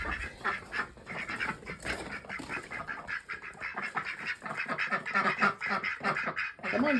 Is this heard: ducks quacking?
yes